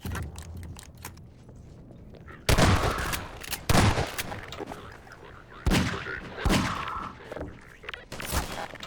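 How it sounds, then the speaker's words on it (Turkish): Grenade explosions and gunfire in the video game Half-Life 2 arrive as loud booming blasts and bursts of shots, with crackling fire scattered between heavier detonations. "Lan bomba atıyor ya"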